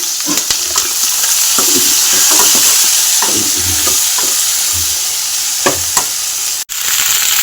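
Dried red chilies and nigella seeds frying in hot ghee, with a loud continuous sizzle and repeated spoon scrapes against the pan, close up and without talk.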